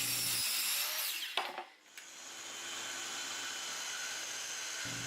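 Circular saw cutting a sheet of plywood for shelf legs: a steady, loud whine runs almost throughout, with a brief dip and jolt partway as the cut shifts, close by and with no talking.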